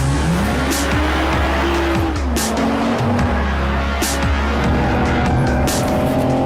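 BMW 4 Series Coupe (2021) driven hard with oversteer, engine revving up and down while tires squeal in repeated sharp bursts, loud and close, with no talk.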